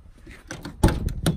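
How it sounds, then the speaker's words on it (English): The door of a Range Rover Classic, a one-ton build, opens with a soft click followed by a couple of louder, sharper knocks and clunks of the latch and hinge, heard up close. "That door opened easier."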